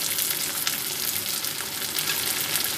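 Curry leaves sizzling in hot oil for poha, a loud, dense, continuous crackle heard up close with no voices.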